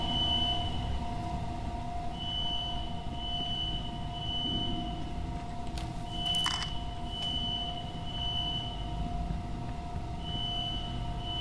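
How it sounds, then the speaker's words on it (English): A fire alarm in the video game Infra sounds as a repeating high electronic tone in intermittent stretches over a low steady hum, with a brief sharp noise midway. "at least the fire alarms are working"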